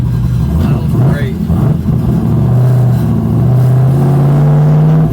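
A Mazda Miata with a swapped LS V8 engine idles loudly and close, a deep steady rumble that rises slightly in pitch toward the end, with voices talking over it early on.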